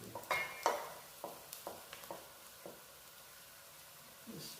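Ginger and garlic frying in a pan, stirred with a few sharp utensil scrapes and clicks over a soft, quiet sizzle, close by.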